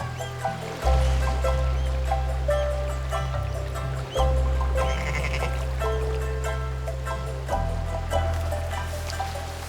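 A sheep bleats a few times in Scotland over a steady rushing of water and a low droning hum, no talking.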